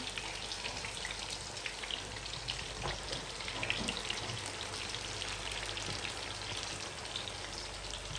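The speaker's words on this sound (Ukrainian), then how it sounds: "Лариса вже почала смажити млинці" Steady crackling sizzle of pancake batter frying in hot oil, dense and continuous throughout, with faint kitchen clatter underneath.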